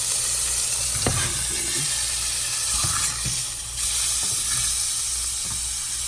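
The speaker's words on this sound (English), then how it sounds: "I just went ahead and threw my patty in the pan where I sauteed my onions and mushrooms" A burger patty fries in a pan already used to sauté onions and mushrooms, hissing in a steady close sizzle with occasional soft scrapes and taps, and no one speaking.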